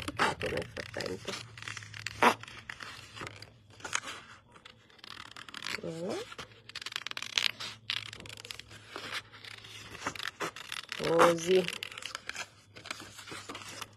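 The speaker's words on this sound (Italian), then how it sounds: "il rumore delle forbici" Scissors cutting paper for a cut-out layout, with intermittent close snipping and crinkling paper sounds under occasional talk and a low background hum.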